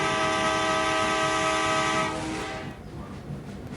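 A train moving at a station, its loud rumble and a long steady horn-like tone filling the first two seconds before fading away as the train passes.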